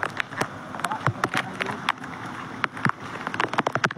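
Rain comes down with irregular spattering drops and bursts of splashing, close and fairly loud, while someone talks over it.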